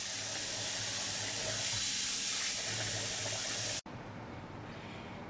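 Water running steadily from a tap while dreadlocks are being washed, a continuous hissing flow that cuts off abruptly near the end, leaving faint room sound and a small knock.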